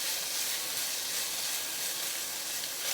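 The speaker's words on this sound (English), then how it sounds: "You do want to give it a good little sort of quick stir fry to get everything heated up" Sweet potatoes stir-frying in a hot pan give a steady, bright sizzle with a constant hiss, close and unbroken throughout.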